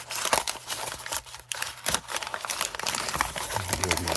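A thermostat cartridge for a Milwaukee (Milvaco) outboard radiator steam trap is unwrapped from its package, with close, irregular crinkling and tearing of wrapping in quick bursts.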